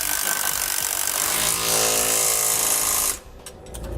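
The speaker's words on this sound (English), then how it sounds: "9/16 wrench and socket, and we're going to tighten up the hardware" A 9/16 socket spins to tighten a bolt and nut on helper-spring hardware on a 2019 Winnebago Advent, heard as a close, loud, steady whirring motor drone for about three seconds before stopping abruptly, followed by faint knocks.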